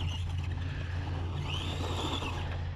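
A budget RC car with a nickel metal brushed motor drives on an RC track, giving a brief, steady whirring drone with a rising whine partway through, fairly faint over a low hum.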